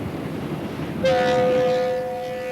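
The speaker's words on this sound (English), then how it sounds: "The train backs around the mountain, then switches again to climb higher." A mountain train backing around and switching to climb higher rumbles low at first, then sounds a sustained horn tone about a second in that holds steadily to the end.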